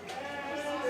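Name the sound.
lamb bleating at a county fair show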